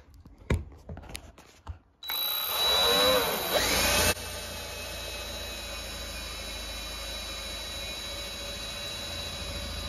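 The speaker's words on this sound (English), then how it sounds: "next thing I'm going to do is drill the holes at the end points" A power drill bores holes into a broken bathtub, preceded by a few clicks and knocks, then a loud whining drill run for about two seconds followed by a steady motor hum.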